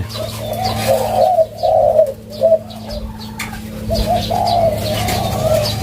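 A dove coos in a repeated low, rounded phrase, close by, with a faint steady hum underneath and small chirps in the background.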